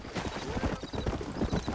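Horses trot in the Red Dead Redemption video game, a steady, close clip-clop of hooves on the ground, with faint voices underneath.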